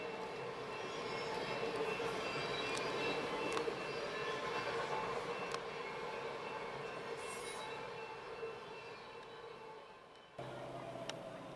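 A train rolls past on a railroad in the Maryland and eastern West Virginia area, a faint, steady rumble of wheels and cars heard at a distance for the whole stretch, with a brief break near the end.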